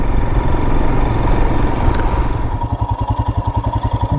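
A 2022 Royal Enfield Himalayan single-cylinder motorcycle on a mountain ride, its engine loud and close with a rough running note that settles into a clear, pulsing idle-like thump in the second half, no talking.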